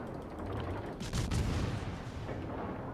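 Ship guns blind firing at a Gearing destroyer in a naval battle video game, heard as a couple of muffled booming salvos over a steady low rumble of background noise.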